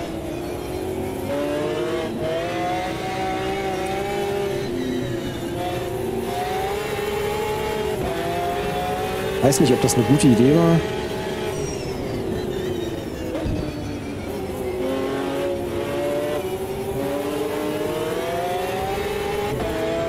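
A Lamborghini GT1 race car in Automobilista 2 drones steadily at high revs from the cockpit, pitch rising and falling through gear changes, with a short louder burst midway; someone speaks briefly over it.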